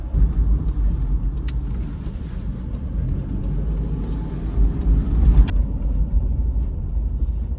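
A Daihatsu Atrai engine runs with its intake pulled off the stock air box, giving a steady low rumble close by that swells slightly, with a couple of sharp clicks along the way.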